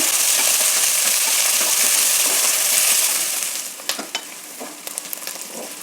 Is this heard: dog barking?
no